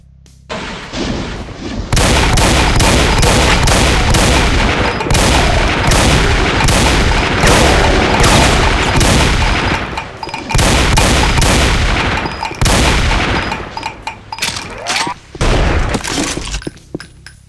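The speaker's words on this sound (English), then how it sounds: "So as you noticed, the shotguns, now you're dual wielding them" Dual-wielded shotguns in The Alpha Division fire in a dense, loud barrage of booming blasts that merge into continuous roaring gunfire, with only brief gaps between bursts.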